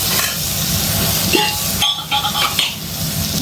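Loud, continuous hissing sizzle of potatoes frying in hot white oil, close up, with a brief clatter of a utensil partway through.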